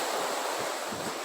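Waves on a pebble beach in Funchal, Madeira, a steady broad wash of surf with wind rumbling against the microphone, continuous and fairly loud, no talk.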